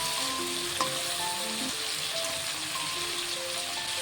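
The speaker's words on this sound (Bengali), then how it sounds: "এখন আমি মাটনটিকে খুব সুন্দর করে ভেজে নেব।" Mutton pieces marinated in sour yogurt frying in oil, a continuous dense sizzle and crackle heard up close with no voices.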